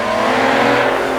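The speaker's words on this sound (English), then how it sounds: "all of a sudden that exhaust kicks in and you can hear that wonderful howl of that V12." A 5.9-litre V12 Aston Martin DBS at full throttle on track during a supercar weekend at Beaulieu, a loud, continuous exhaust howl with steady harmonic drone, close and unbroken for just over a second.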